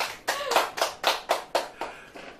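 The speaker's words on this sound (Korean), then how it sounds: "그래서 한번 다들 박수 한번 쳐주시죠." Applause breaks out for a guest introduced on a talk show about an Overwatch esports team, about eight distinct, fairly loud claps in a steady rhythm from a small group, close by and with no talking over them.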